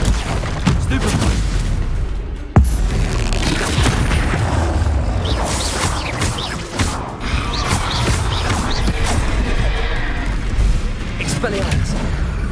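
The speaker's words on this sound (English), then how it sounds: "Stupefy." In Hogwarts Legacy, a Stupefy spell is cast in the middle of a duel, buried in a constant wash of booming impacts, crashes and magical combat noise that never lets up.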